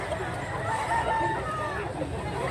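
A rooster in Mantalongon, Cebu crows in a drawn-out call over a dense background of other clucking and crowing fowl, moderately close and continuous throughout.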